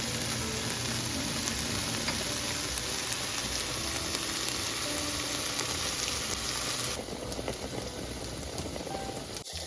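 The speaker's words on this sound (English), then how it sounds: "Here is the chicken, stir frying, and I have the garlic and ginger adding to the chicken." Chicken with garlic and ginger stir frying in a hot pan sizzles intensely with dense crackling spatter, close and loud, easing a little partway through before a brief knock at the end.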